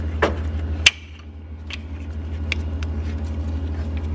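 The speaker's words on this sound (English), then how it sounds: "Go ahead and disconnect the connector first." A sharp plastic click and a few lighter taps come from unplugging the thermostat electrical connector on a BMW E46 during a cooling system replacement, heard close over a steady low hum.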